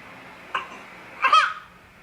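A child coughs during a physical therapy session for loosening phlegm, with one short cough burst followed by a louder, longer cough a moment later.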